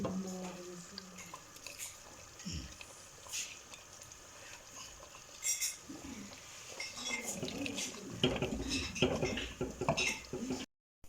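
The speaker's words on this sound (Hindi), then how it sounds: "थोड़ा सा हिलाएंगे इसको" Dal with spices is stirred in a cooking pot, giving quiet scrapes and soft clinks of a spoon against metal, with wet squelching sounds and a louder run of stirring near the end.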